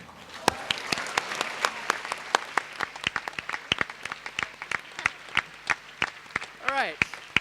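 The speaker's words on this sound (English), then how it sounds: "give a round of hearty applause to thank them" A graduation convocation audience breaks into hearty applause, dense rapid clapping from many hands sustained throughout, fairly close and loud, with a brief voice near the end.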